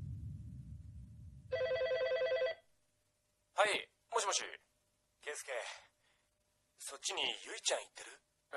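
A telephone rings in a short electronic burst of repeated trilling tones over a low rumble, then stops, followed by sighs and breathy voices in an anime scene.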